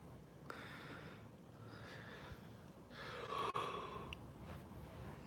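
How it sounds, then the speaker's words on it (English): A person yawns, a long soft drawn-out breath that swells near the end before a faint sharp click, quiet and close with no speech. "It is so rude to yawn, especially when no one's here."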